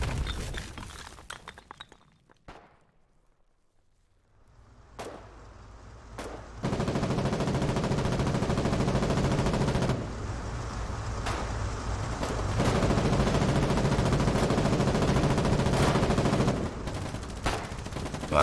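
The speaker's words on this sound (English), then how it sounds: "A lot of shooting." Gunfire rings out in a Foxhole frontline battle, with dense bursts of machine-gun fire and sharp single shots. A brief lull comes first, then sustained loud shooting until near the end.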